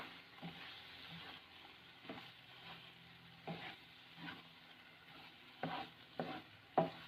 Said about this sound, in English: And we have to mix this idli along with this masala.